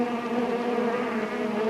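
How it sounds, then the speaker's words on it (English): A dense, droning buzz of a swarm of bees hums steadily and evenly throughout, close and unbroken. "There above them hovered a great, dark, angry swarm of bees"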